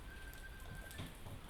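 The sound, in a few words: heavy rain during a typhoon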